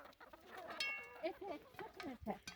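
A rooster clucks in short bursts close by, with people talking over it in a noisy outdoor setting.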